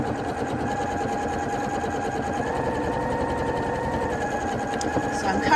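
A sewing machine runs steadily, stitching the long straight bottom edge of a fabric winter crown with a continuous, close mechanical whir and no pauses.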